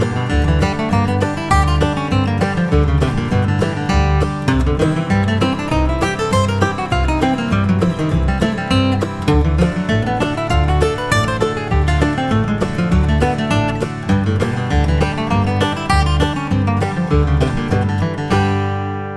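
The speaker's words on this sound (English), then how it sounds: "So I'm going to play this along with a strum machine backing track at about 100 beats per minute" Bluegrass lead lines played over a strum machine backing track at about 100 beats per minute: a busy, steady stream of bright plucked melody over a rhythmic strummed accompaniment, continuous and loud throughout with no talking.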